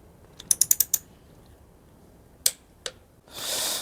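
Ratchet wrench on a Suzuki Intruder 1800 motorcycle bolt being brought to torque: a quick run of about six sharp ratcheting clicks, two more isolated clicks later, then a short burst of hiss, close and clear with no talking.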